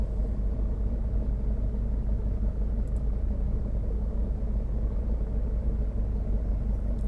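Race cars lapping a track in the sim racing game Automobilista 2 produce a steady, low engine rumble that holds evenly throughout, a continuous drone with no talk over it.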